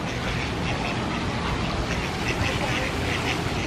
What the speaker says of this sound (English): It's quacking.